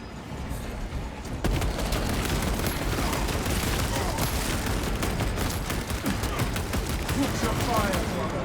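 Sustained heavy gunfire rattles through a battle in Warhammer 40000: Space Marine 2, dense rapid bursts kicking in sharply after a quieter start and staying loud throughout, with voices mixed into the din.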